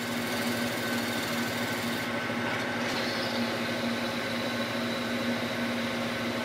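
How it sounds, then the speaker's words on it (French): A drill bit bores into wood turning on a lathe for a tool handle, a steady, dense mechanical drone with a constant hum throughout, close and continuous, no talking. "Donc le fleuret de perçage, on avance petit à petit,"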